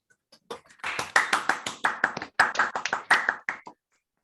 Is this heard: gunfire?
no